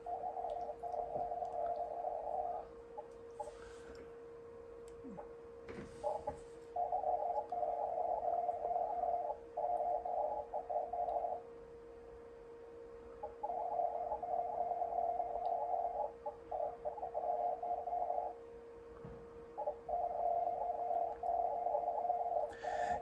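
Icom IC-7300 transceiver receiving CW contest signals, a steady tone with bursts of Morse keying over a background hiss, faint and continuous.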